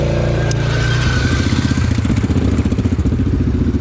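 A motorcycle engine runs loud and close, a steady throbbing idle that picks up a faster pulsing rhythm as it revs, with no talk over it.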